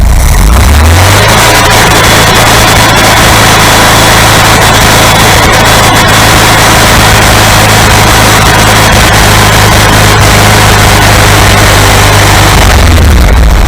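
A VW 2-litre air-cooled engine revs up and holds at high speed, a loud, continuous roar with a steady low drone that runs unbroken for most of the stretch before dropping away near the end.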